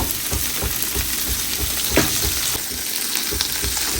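Asparagus sizzles and fries in butter in a pan while lamb chops are prepared for dinner, giving a dense, steady crackle with light stirring clatter throughout; close and fairly loud, with no talking.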